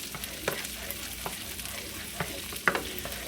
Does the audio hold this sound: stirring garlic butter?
yes